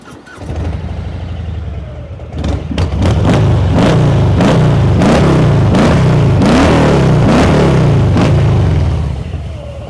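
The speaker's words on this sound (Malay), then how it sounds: "Harley punya sound memang best lah." A 2023 Harley-Davidson FLHC Heritage Classic 107 motorcycle with a 1750cc Milwaukee-Eight V-twin engine and Cobra USA exhaust cranks, catches and starts, then rumbles loudly with repeated throttle blips and revs, close by.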